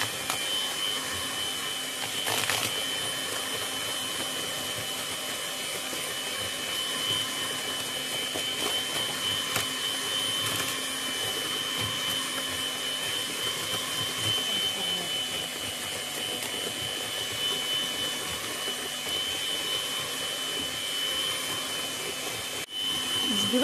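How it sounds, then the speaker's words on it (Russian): An old electric hand mixer whips a sugar mixture for a cake with a steady, continuous motor whine and hum, unchanging and fairly close throughout. "И все это взобьем миксером."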